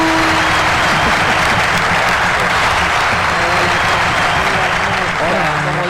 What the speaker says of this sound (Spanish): Tantos aplausos, tanto recibimiento, la verdad que levanta.